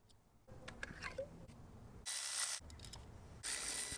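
A ratchet loosens 10 mm ignition coil bolts on a 100 Series Toyota Land Cruiser engine, giving close, quiet bursts of rapid clicking separated by short pauses.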